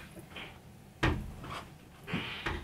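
A closet door in a beauty room thumps and rattles as it is pushed open and shut, several knocks and scrapes close by in a quiet room.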